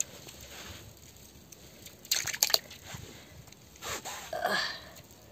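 Frozen water in a large tank, in a snowy Himalayan apple orchard in Kinnaur, cracks and snaps as the tank is shaken: two short clusters of crisp crackling, near and moderately loud, separated by quiet.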